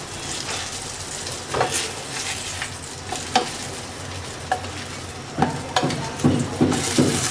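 Eggplant slices fry in hot oil in a pan, a steady sizzle broken by scraping stirs and sharp clicks of a utensil against the pan, close and without speech.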